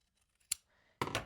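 Scissors snip through quilted fabric for a backpack strap: one short sharp cut, a pause, then a longer louder crunching cut close by, with no talking.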